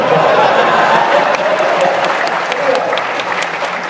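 An audience at an onstage conversation breaks into sustained applause, full and steady throughout with loud, close clapping, while some chuckles and a voice come through underneath.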